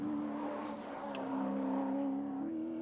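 A Roadways Holden Commodore V8 touring car climbing Mount Panorama at Bathurst, its engine droning steadily then pitch rising slightly as revs climb, heard from a moderate distance.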